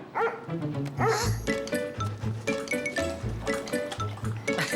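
Cartoon dog barking at a fire station, several loud yips and bow-wows repeating in short bursts over background music and effects.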